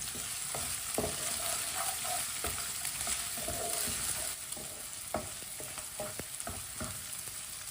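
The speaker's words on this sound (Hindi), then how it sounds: "एक मिनट के लिए अदरक और लहसुन को पका लिया।" Ginger, garlic and green chili sizzle steadily in a pan over lowered heat while a spoon scrapes and stirs with scattered clinks and taps, close and fairly quiet, without talk.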